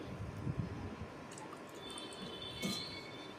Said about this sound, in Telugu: తర్వాత కొంచెం వాటర్ పోసుకోవాలి